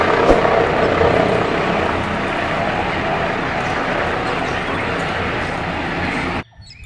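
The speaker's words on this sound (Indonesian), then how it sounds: "Dan yang terakhir, helikopter polisi." Steady whirring rotor drone of a toy helicopter, loud and close, running continuously before cutting off abruptly at the end.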